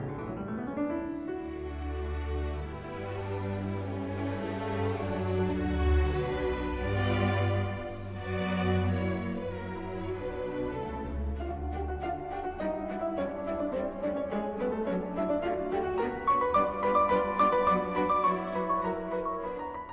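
A Beethoven movement theme played on piano, flowing chords and a melodic line rising over sustained bass notes, steady and moderately soft, with no talking.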